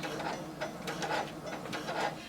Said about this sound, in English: Go ahead and lower your needle. Begin sewing and back stitch.